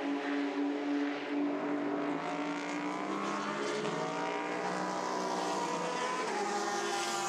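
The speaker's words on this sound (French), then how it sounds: "la Toyota de Sébastien Buemi et celle de Mike Conway qui passe à l'instant devant nous" A Toyota prototype race car roars past at the 24 Hours of Le Mans, a loud continuous engine howl with shifting pitch as it sweeps by, alone and without talk.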